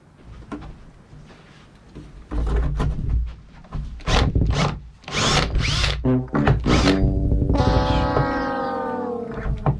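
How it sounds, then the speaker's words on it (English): Power drill fitted with an extender whirring in several bursts, then a long steady grinding whine as the bit bores a deep hole into a cabinet, loud and close. "The hole is so deep that I actually needed to put an extender on the drill."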